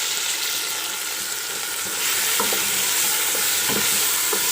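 Marinated keema frying in a karahi, a loud, dense sizzle that swells partway through as the meat is stirred, with a few spatula scrapes and knocks close by.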